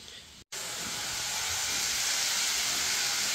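Eggplant and potatoes frying in a pan at home, a steady loud hiss and sizzle that starts after a brief break and runs on without letup.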